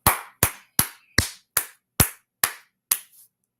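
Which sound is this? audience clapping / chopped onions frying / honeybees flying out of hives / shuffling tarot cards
audience clapping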